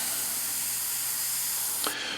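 An airbrush sprays thinned Liquitex acrylic ink in a steady, loud, close hiss lasting about two seconds, then cuts off abruptly with a small click as the trigger is released.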